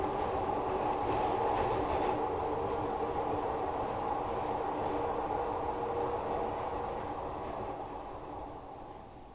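A Glasgow Subway train in the Train Simulator Classic game rolls along the tunnel with a steady low rumble and hum, faint squeal and clicks near the start, gradually fading as it runs on with no talk.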